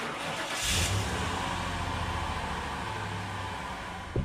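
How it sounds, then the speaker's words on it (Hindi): A car engine rumbles steadily, with a brief rise in revs early on, then a low drone as the vehicle pulls away; no talking. "थोड़ी देर बाद ही गाड़ी निकलने की आवाज आई"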